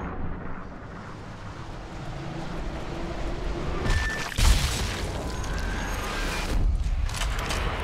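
A sniper rifle shot in the Sniper Elite V2 video game booms out around the middle, followed by a second rumbling burst, over a steady windy game ambience.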